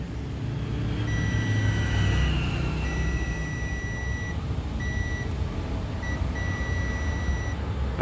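A Bluetooth speaker with a false low-battery warning gives sustained high electronic tones in long and short pulses, with brief gaps between them, over a low background rumble.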